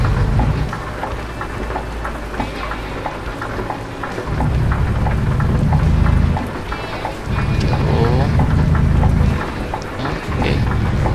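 Steady heavy rain in the Euro Truck Simulator 2 game, dense patter throughout with deep rumbling thunder swelling in and out in several long stretches.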